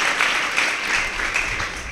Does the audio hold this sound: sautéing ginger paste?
no